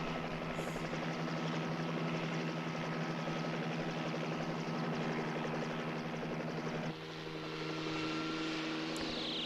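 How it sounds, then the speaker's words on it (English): Continuous whirring rotor and engine drone of a helicopter in a video game boss fight, steady and loud throughout, shifting slightly in tone near the end. "No, do not place yourself on top of the helicopter, please."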